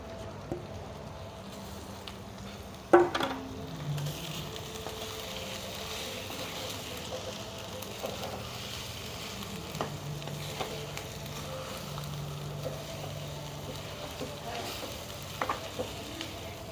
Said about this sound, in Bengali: এবার আলু সেদ্ধ দিয়ে দেবো।